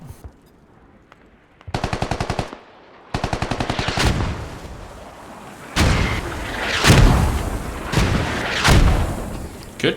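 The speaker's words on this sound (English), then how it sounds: "Good mortars here, landing on the far eastern side" Mortar rounds landing in the military shooter Squad during a competitive match, heard as heavy booming impacts at intervals over bursts of rapid automatic gunfire, loud and close with rumbling aftermath.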